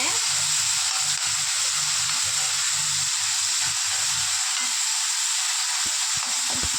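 Drumstick leaves, onions, garlic and green chillies fry in oil over a high flame, producing a constant bright hiss with low scraping and stirring knocks underneath, close and steady.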